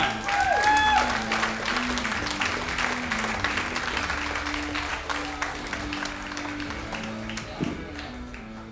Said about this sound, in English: Let's have a nice round of applause for Robert Yoder.